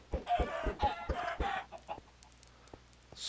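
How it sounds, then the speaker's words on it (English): Minecraft chickens cluck in a quick run of short, close clucks, then trail off into a few sparse, faint clicks and a brief soft noise at the end. "let's go throw eggs at chickens"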